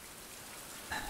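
Rain in the survival game Survival Fountain Of Youth falls as a soft, even hiss of patter, with a small bright chime-like ping rising near the end.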